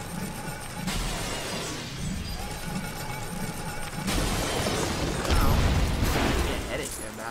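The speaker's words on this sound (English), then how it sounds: "hold B to shatter these glowing glass objects right here." Glowing glass objects shatter in the Lego Batman 2 video game, a bright crashing break with a louder burst near the end, heard over game effects while players talk throughout.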